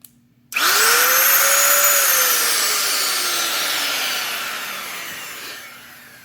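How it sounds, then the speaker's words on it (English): A series-wound high-current motor starts abruptly and whines loudly at close range, with its pitch rising and then slowly sagging as it keeps running before easing off toward the end. "It's a series wound high current motor."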